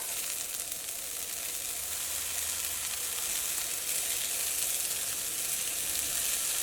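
Broccoli sizzles in a hot pan during breakfast cooking, a steady, soft frying hiss with faint crackle that holds evenly throughout, no voices over it.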